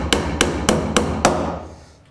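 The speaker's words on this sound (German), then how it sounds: "Jetzt nageln wir noch die Rückwand hinten drauf." Five sharp hammer blows drive nails into the back panel of a wooden insect hotel, struck close and loud at a steady rhythm about a quarter second apart, followed by a fading tail with no speech.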